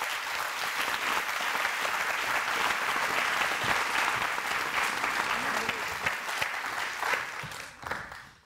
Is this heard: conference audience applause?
yes